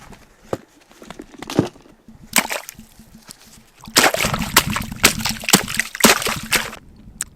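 Footsteps sloshing through wet slush lying on top of frozen lake ice in winter, a run of soft crunching, splashing steps, sparse at first and then quicker and louder, close to the microphone.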